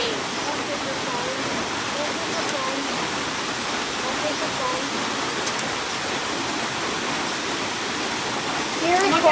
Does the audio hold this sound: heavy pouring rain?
yes